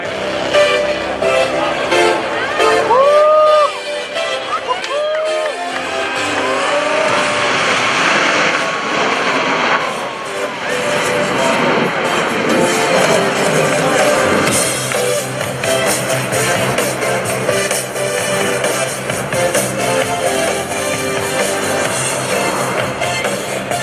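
US Navy Blue Angels jets in diamond formation pass over a Rhode Island Air National Guard airshow, a loud, continuous jet roar that swells and holds for over twenty seconds with a faint crowd underneath.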